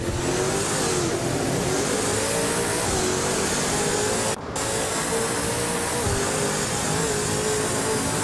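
A 2019 Ford Mustang and other race cars roar around the Curitiba circuit in a video game race, a loud continuous engine drone with pitch rising and falling, briefly cutting out once.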